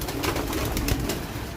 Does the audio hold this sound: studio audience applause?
no